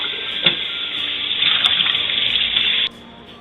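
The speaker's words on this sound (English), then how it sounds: "With cool water, I'm going to rinse the whole bird" Cool tap water runs steadily as a whole raw turkey of about 18 to 22 pounds is rinsed inside and out, a close continuous splashing stream that stops abruptly near the end.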